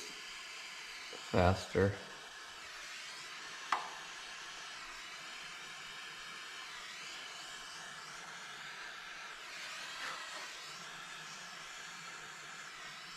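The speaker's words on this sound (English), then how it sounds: "I just use a little butane torch to, you can use a heat gun too" A small butane torch, used while repairing a John Deere L130 riding mower, hisses in a constant breathy rush throughout. A few brief knocks sound early on, and a voice speaks over it.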